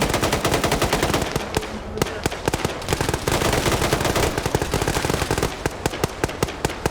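An M249 machine gun firing in a large multiplayer military video game set during the US invasion of Panama. Loud, dense automatic bursts run almost without pause, with a brief lull before the rapid fire resumes.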